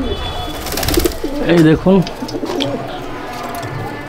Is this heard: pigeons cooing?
yes